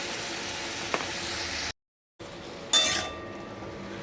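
Hot oil sizzles steadily as pumpkin and potato fry with cumin seeds, broken dried chillies and salt, with a brief dropout of silence midway and a small clink before the sizzling continues.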